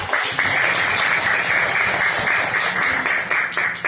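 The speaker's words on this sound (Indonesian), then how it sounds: "Tepuk tangan dulu untuk kelompok padi." A classroom claps for a student group, a dense, steady round of applause lasting several seconds, fairly close and loud, with no talking over it.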